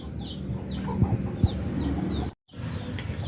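Chicken clucks at close range over a steady low outdoor background, with a few short sharp calls standing out and faint birds chirping in the distance.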